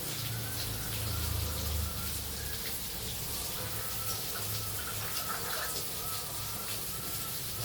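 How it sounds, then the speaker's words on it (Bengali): Water is poured into frying spice masala in a pan, giving a continuous, soft rushing splash that runs evenly and quietly the whole way through. "এখন পানি দিয়ে দিচ্ছি, অল্প করে পানি দিলেই হয় মশলা কষানোতে।"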